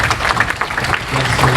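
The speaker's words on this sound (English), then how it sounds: "Please, round of applause for" Applause at a book launch on land law and customary law, a dense continuous wash of clapping from the audience, steady and fairly loud throughout, with a few voices mixed in.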